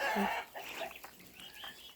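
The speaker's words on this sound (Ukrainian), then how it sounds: "Та це ж ці бентамки такі верескливі" Bantam hens squawk and cluck loudly and shrilly near a farmyard, the calls rough and overlapping, with no clear speech.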